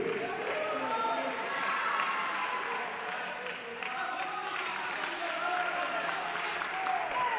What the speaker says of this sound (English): The claps go up.